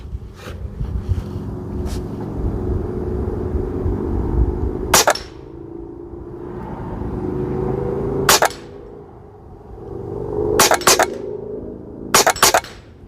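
Huben K1 air rifle fires double-tap shots at a small 2-inch steel paddle target, producing sharp paired cracks and pings spaced several seconds apart over a steady low background hum.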